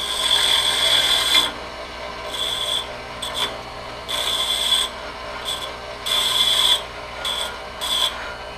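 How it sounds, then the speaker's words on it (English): A bench grinder's wheel is dressed with a small dressing tool, giving repeated bursts of harsh, gritty scraping with a high whine, alternating with short quieter gaps over the steady hum of the running grinder. "It's my little grinding wheel dressing tool."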